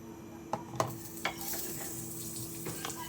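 Butter sizzles softly in a frying pan used for pancakes, a quiet steady fry punctuated by a few sharp clinks of utensil against pan.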